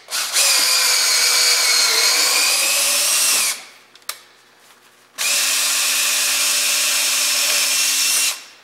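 A spiral point tap driven under power cuts threads through a through hole in metal, a steady high whine running about three seconds, pausing, then resuming for another three-second stretch, with no voices.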